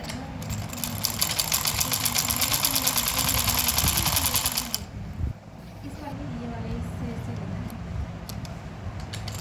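A sewing machine stitches a samosa-cut pajama, running in a steady, loud mechanical whir for about five seconds and then stopping, with softer handling and room noise after.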